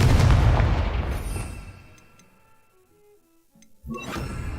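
A Confringo fire spell from Hogwarts Legacy lands as a heavy booming blast, a loud explosive burst that decays over about two seconds, followed by a softer second impact near the end.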